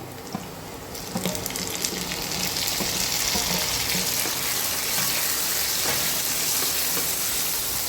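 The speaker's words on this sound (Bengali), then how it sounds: "এটা কিছুক্ষণ ভাজা ভাজা করে নিতে হবে।" Tomato and chopped chili frying with baby corn in a pan, a steady broadband sizzle that rises after the first second and holds evenly close up, with faint clinks of stirring and no voices.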